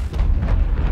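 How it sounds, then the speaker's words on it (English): A firecracker going off under a tree in the video game It Takes Two, heard as a loud, sustained rumbling blast with dense low-end boom filling the whole second, with no voice over it. "a weird firecracker went off under the tree"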